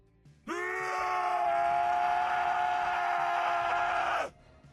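A man lets out one long, sustained scream in a horror story scene. It is loud and close, and it holds steady for about four seconds before cutting off abruptly.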